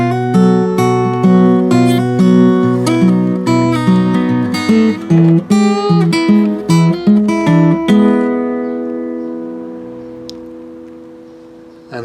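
A ragged, dirty blues guitar line played slowly as a lesson example, with plucked single notes and chords ringing out in a loose, steady rhythm and a long fading tail, close and loud with no talking.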